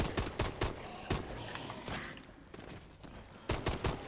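Repeated bursts of gunfire in the Call of Duty: Advanced Warfare Exo Zombies game, loud and close, with rapid volleys at the start and end and quieter firing between.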